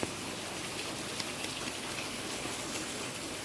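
Steady rain falls outdoors, a dense even hiss with scattered drops tapping on surfaces, moderately loud and unbroken throughout.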